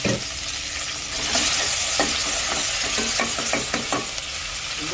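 Ginger being fried in hot oil for a South Indian buttermilk curry, a steady close sizzle with repeated scraping clicks of a spoon stirring the pan.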